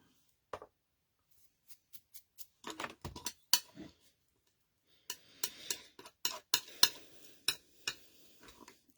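Clear gel with glitter stirred by a metal palette knife, giving sparse, faint scraping clicks and taps in irregular bursts, close and quiet with no talking.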